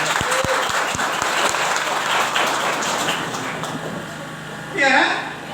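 Congregation applause at a church sermon, a dense roar of clapping with a few distinct near claps at the start, fading gradually before a voice calls out over the end.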